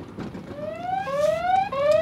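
Anti-theft alarm on a Polytron Evo electric scooter, a loud electronic tone rising in pitch in repeated sweeps, each restarting low, close and steady over about two seconds.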